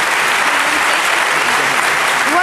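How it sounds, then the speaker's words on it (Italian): Studio audience applauding at the 1986 Telegatti television awards show, a steady dense wash of clapping that fills the whole stretch loud and close, with no break. "Facciamo un bel applauso per i Visitors."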